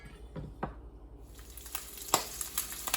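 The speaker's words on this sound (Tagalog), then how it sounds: "Ayan guys, at nag-i-start na akong iprito yung pork belly" Pork belly fries in a pan, giving a quiet, steady sizzle scattered with sharp crackles and pops that grow a little more frequent toward the end.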